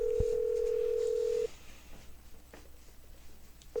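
Telephone in the Nancy Drew game White Wolf of Icicle Creek: a steady dial tone sounds after a brief click, stops for a few seconds of faint tapping and quiet clicks, then resumes at the end.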